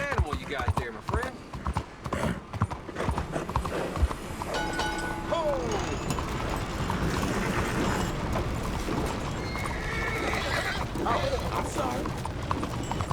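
A horse's hooves clip-clop along in the Red Dead Redemption 2 video game, repeated steps mixed with game ambience, a faint whinny-like tone, and a man's brief spoken line.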